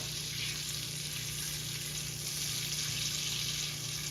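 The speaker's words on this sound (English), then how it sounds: "Scraping up any bits from the bottom of the pan." A sizzling pan being deglazed while the browned fond is scraped from the bottom, producing a soft, continuous frying hiss at low volume with a steady hum beneath it and no talking.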